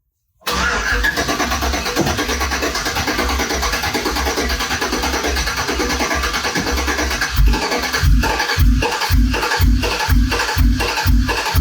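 Turbocharged truck engine cranking over and over as it tries to start, a steady close, loud churn that breaks into a series of rhythmic heavy pulses near the end.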